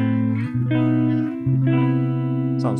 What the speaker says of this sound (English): So we have just this jazz reverb with matching cab